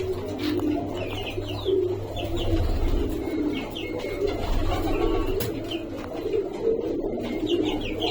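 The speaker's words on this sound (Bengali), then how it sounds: "ছয় তলায় আমার একটা কবুতরের ঘর আছে।" Pigeons coo repeatedly from a rooftop pigeon house on a sixth floor, with scattered chirps over a steady low hum, no voices present.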